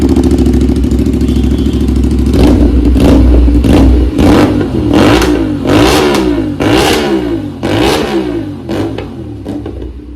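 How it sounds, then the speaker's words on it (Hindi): An Aprilia RS 457 motorcycle fitted with an Austin Racing short can exhaust blips through a series of sharp, loud revs, about eight throttle bursts over a rumbling idle, close by with no talk. "गाइस अब बारी है एक और ऑस्टन रेसिंग की शॉर्ट कैन,"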